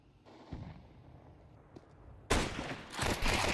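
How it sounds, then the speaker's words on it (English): Gunfire from an MP9 SMG in a competitive tactical shooter video game match, with a few faint shots early on, then a loud, dense burst of rapid fire in the final second. "with the MP9, another one with the SMG goes the way of Dengzo."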